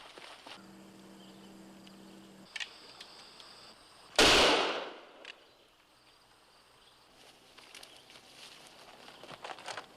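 A single sharp gunshot cracks out in a frontier woodland scene, loud and close, with a long echoing tail after the blast and quiet surroundings before and after.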